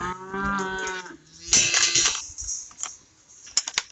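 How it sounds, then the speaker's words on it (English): Cows on a farm low loudly and close by, with one long moo followed by shorter bellowing calls and some light rattling in the background. "One back here chewing her cud"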